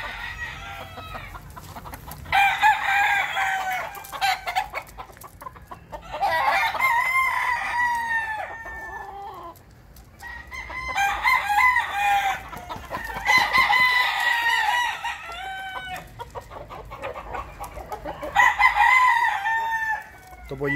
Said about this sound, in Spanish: Aquí tenemos gallos de pelea